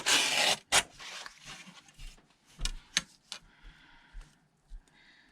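Quiet trimming along the bottom edge of a paper ephemera piece, heard as a short rasping cut followed by scattered soft ticks and scrapes close by.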